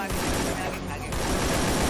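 Rapid gunfire fills a Free Fire match as a player shoots an opponent, a loud, dense burst of shots running throughout with voices talking over it.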